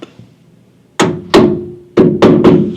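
Salvaged headlight being tapped into place on a Scout during restoration: five sharp, close knocks, two spaced then a quick cluster of three, each with a brief ringing decay, after a faint soft tap.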